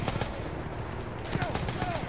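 Rapid gunfire and explosion effects from the Battlefield 1 video game crackle densely in quick bursts, moderately loud, with someone talking over the battle noise.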